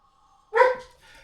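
A dog gives a single sharp, close bark out in Arctic cold, following a brief faint tone and ending with a short tail of quieter noise.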